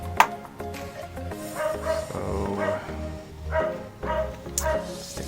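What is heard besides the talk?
neighbour's dog barking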